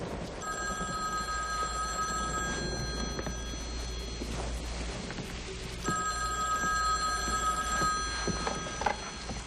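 Telephone ringing indoors in two long electronic ring bursts separated by a short pause, moderately close and clear, with no talking.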